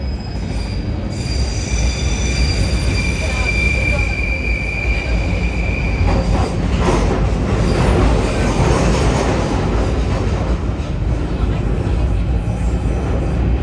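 A train rolls along in the UK near Portsmouth with a constant heavy rumble and high metallic wheel squeal ringing out for several seconds, loud and close, lasting the whole stretch.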